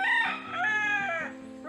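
A rooster crows once, close and loud, in a long harmonic call that rises and then trails off, on a tropical farm among trees grown to feed cattle.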